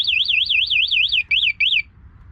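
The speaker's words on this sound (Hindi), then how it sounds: "ये इसका सिक्योरिटी अलार्म सिस्टम जो बाइक में लगाया हुआ है" A security alarm fitted to a Yamaha YBR125G motorcycle wails in a rapid rising-and-falling electronic siren, loud and close, cutting out briefly twice before stopping.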